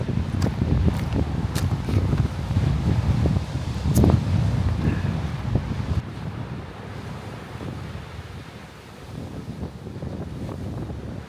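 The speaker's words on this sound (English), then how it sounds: "Look at the water coming in there." Ocean surf rolls in along the shore at Gros Morne National Park, Newfoundland, a steady loud wash buffeted by heavy wind noise on the microphone, with no talking.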